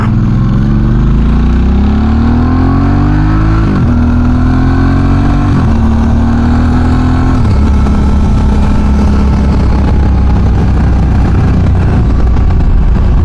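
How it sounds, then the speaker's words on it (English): A motorcycle freshly back from a top-end rebuild roars loudly and close, its engine note climbing under hard acceleration and dropping briefly at each gear change before pulling up again. "Engine's feeling good though, she's pulling pretty hard."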